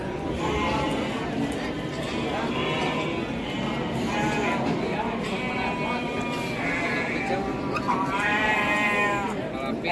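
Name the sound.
Garut sheep bleating at livestock market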